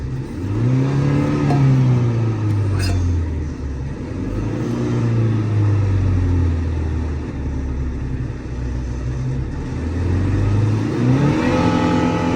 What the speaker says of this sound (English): Try to get it revved up